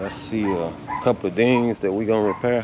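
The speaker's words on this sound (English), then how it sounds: "Y'all might hear my dog barking in the background." A dog barks and yips in the background of a car paint shop while someone talks steadily over it, the barking partly buried beneath his voice.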